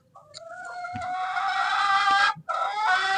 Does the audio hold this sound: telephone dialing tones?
no